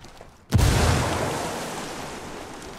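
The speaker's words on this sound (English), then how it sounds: "I'm just gonna throw a grenade on this one" A frag grenade explodes in the tactical shooter game Ghost Recon Wildlands, a sudden loud boom with a deep low rumble that decays slowly over a couple of seconds, with no voices over it.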